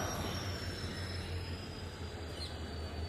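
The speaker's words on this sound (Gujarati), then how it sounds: "બોટાદવાળી ટ્રેન આવી ગઈ છે" A long passenger train rolls in at a railway station in Gujarat, a steady low rumble of wheels on track with faint high squeal, continuous and fairly close, with no talking.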